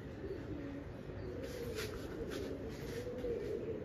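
Pigeons coo in low, soft, steady murmurs, with faint chirps above them and a constant background hiss. No one speaks.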